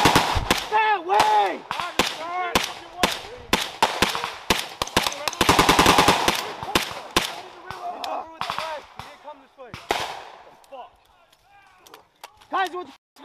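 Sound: sustained machine gun fire during infantry exercise

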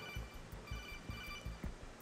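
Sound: codec phone ringing in Metal Gear Solid 2 video game

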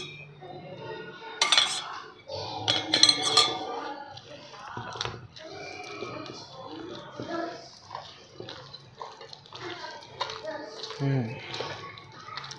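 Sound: spoon mixing curd into leftover idli batter

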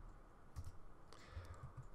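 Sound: typing on a computer keyboard

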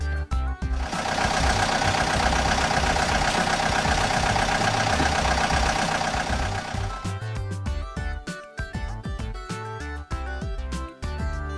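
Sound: excavator engine running

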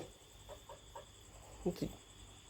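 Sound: rooster clucking

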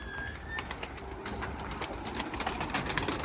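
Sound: pigeons

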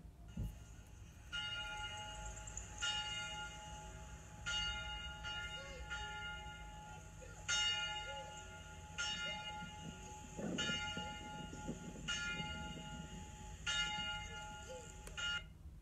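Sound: church bells ringing before a service

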